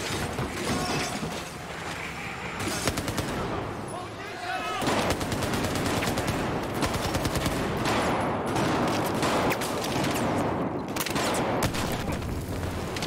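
Rapid gunfire and bursts of automatic shots in the video game Battlefield 4, loud and dense throughout with a brief lull, while a player talks over the action.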